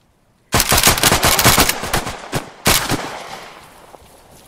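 Automatic gunfire in the military game Arma 3: a long, loud rapid burst of shots, then a brief pause and a second shorter burst fading into a trailing echo.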